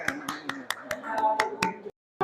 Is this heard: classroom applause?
yes